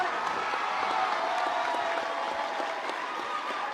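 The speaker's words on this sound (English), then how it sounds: "Let's give another round of applause to all of our finalists." Audience applause for teaching award finalists at a school teacher-of-the-year gala, a steady dense clapping from a large crowd that holds at full strength throughout, with no talk over it.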